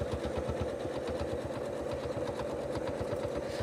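A sewing machine free-motion quilting a feather filler design, running with a fast, even needle rhythm of rapid mechanical ticks over a steady motor whir, close and continuous throughout.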